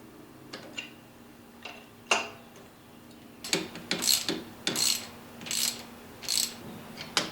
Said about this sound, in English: Go ahead and bolt down the bracket first.